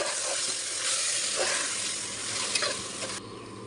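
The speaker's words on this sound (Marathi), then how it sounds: "आता आपण ती मॅरिनेट केलेली कोळंबी त्याच्यात टाकून घेते मी आणि तेही व्यवस्थित परतून घेते" Marinated prawns sauté with spices in a cooker, a close, steady sizzle punctuated by several soft scraping stirs of a spoon, with no voices.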